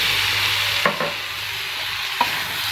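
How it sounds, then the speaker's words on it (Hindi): A paneer snack with ketchup and green chutney sizzles steadily in a pan while a spoon stirs it, with a couple of soft scraping knocks over the constant frying hiss. "और अब आप इसमें अच्छे से मिक्स कर दीजिए।"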